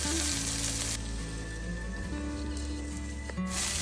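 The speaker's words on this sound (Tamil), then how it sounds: "எல்லாத்தையும் நல்லா கலந்து கொஞ்ச நேரம் மூடி பொரிய விடுவோம் இந்த வெண்டிக்காயை" Okra (ladies finger) frying in a covered pan with salt, a steady dense sizzle running loud and close throughout, with a low stove hum underneath.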